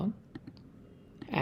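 A mouse click on a button in a webhook setup screen, a few short, faint, isolated clicks spread across a quiet stretch.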